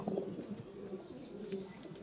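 A pet pigeon, newly bought and kept at home, coos softly in a few low, rolling calls at close range, with no one speaking.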